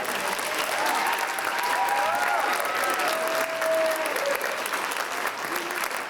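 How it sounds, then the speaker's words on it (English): Steady applause from a school honor band concert audience fills the whole stretch, dense clapping with a faint crowd murmur underneath. "we can clap for that, y'all"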